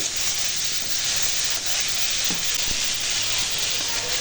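Vegetables sizzling and frying in a hot pan, a steady crackling hiss with a few soft stirring knocks, close up.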